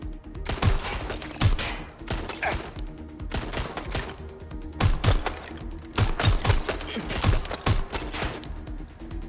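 Rapid bursts of automatic gunfire in the video game Watch Dogs Legion, clustered in repeated volleys of sharp cracks across the whole stretch, loud and close, with faint voices beneath.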